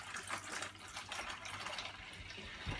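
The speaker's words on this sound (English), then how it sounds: "gently squeeze this pump and water will begin to flow" Water runs through an aquarium siphon hose into a bucket during a water change, a soft, faint continuous trickle and gush that stays steady and close, with no voices.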